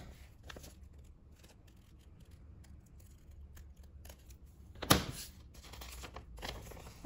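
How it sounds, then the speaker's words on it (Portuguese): Scissors cutting folded fabric for a beginner sewing project, faint snipping and sliding of the blades through the cloth, with one louder crisp cut near the end, close and without talk. "Aqui eu dobro ao meio para cortar uma vez só"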